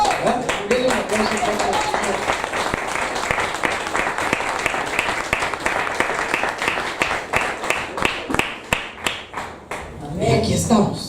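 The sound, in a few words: congregation applause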